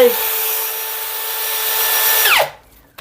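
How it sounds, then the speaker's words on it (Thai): Power drill boring a hole during bathroom fixture installation, a loud steady high whine for over two seconds that winds down sharply as the trigger is released. "เพราะนั้นเราต้องเจาะเอา"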